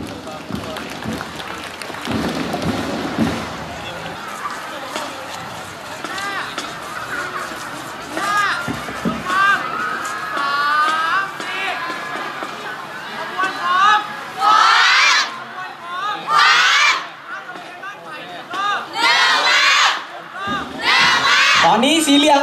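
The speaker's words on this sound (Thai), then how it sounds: "ขอเสียงปรบมือให้กับขบวนด้วยค่ะ" Crowd at a Thai school parade, Ban Phai School's yellow team marching past with a Grade 8 class, cheering and shouting loudly while an announcer's voice runs over the noise, with bursts of children's shouts toward the end.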